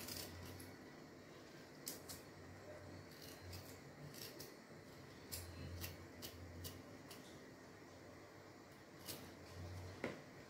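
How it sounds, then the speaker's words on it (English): A knife cuts carrots on a board, dicing them into small cubes with irregular sharp chopping clicks spread across the clip, close and fairly quiet, over a steady low background hum. "I'm going to slice this downwards and cut these in small cubes, small as I can."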